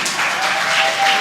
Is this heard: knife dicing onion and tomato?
no